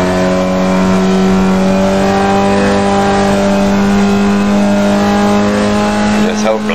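A Formula Vee race car engine in the iRacing video game at Lime Rock, holding a steady, loud, buzzing drone at near-constant pitch, with a faint shift in tone near the end as the car works through traffic.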